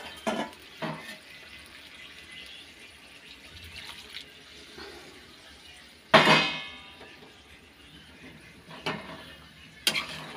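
An oily pan is rinsed with hot water at a sink, with a steady running-water wash, soft clinks of metal, and a sharper splash and clatter partway through before the water settles again.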